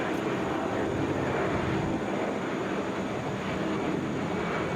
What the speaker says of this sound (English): This is Delta Flight 1573, Atlanta to Minneapolis, Boeing 757. Wheels up.